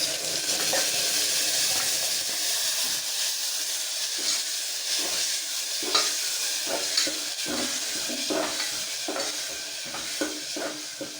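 Ground masala sizzles in a hot tempering of oil with onions, a loud hissing fry broken by repeated stirring scrapes and clicks of a spoon against the pan.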